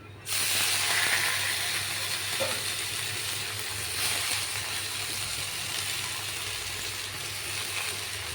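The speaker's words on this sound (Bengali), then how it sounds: "এই কড়াতে শাকটা ভেজে নেব রসুন আর শুকনো লঙ্কা ফোড়ন দিয়েছি" Greens frying in a kadai with garlic and dried red chilli give off a steady, even sizzle and hiss that lasts the whole stretch, close and alone with no talking.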